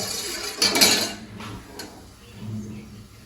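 Milk with custard being stirred in a pan on the stove, a few scraping clinks of a spoon against metal, loudest near the start, then quieter bubbling and light stirring sounds.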